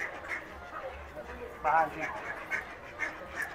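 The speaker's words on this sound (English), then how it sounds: "We had to sit outside because the ducks are out here. And yeah, they're surrounding." Ducks quack around people feeding them outdoors at a Christmas event at the Dollywood theme park, several nearby calls repeating over crowd murmur while someone speaks briefly.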